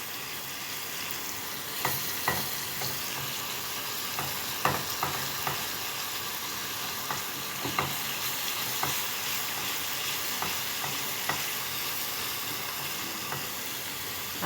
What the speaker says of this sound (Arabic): في الطاسة حطيت سمنة وحطيت التومة عشان اعمل كده